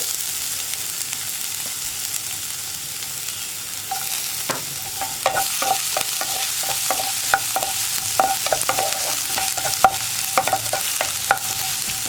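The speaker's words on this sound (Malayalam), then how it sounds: "വറ്റൽമുളക് ചേർത്തിട്ട് ഒന്ന് ഇളക്കി കൊടുക്കുക." Dried red chilies and chopped ginger fry in hot oil, a steady sizzle running throughout while a spoon scrapes and stirs the pan in quick, irregular clinks and taps that grow busier in the second half.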